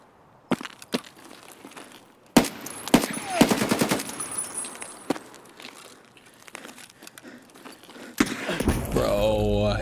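Gunfire in the game Escape From Tarkov. Sharp isolated shots are followed by a rapid automatic burst, then more scattered cracks, with a voice talking near the end.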